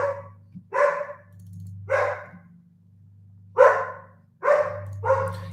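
Several dogs barking at passersby walking their dogs in a neighborhood: about six loud, separate barks in an irregular rhythm, close by, over a steady low hum, with no talk.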